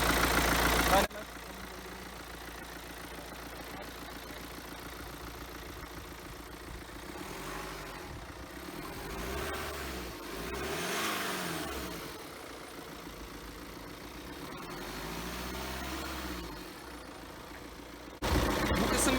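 A BMW X5 engine idles steadily, then the throttle is blipped gently a few times, the revs swelling and falling in smooth waves before settling, heard from nearby.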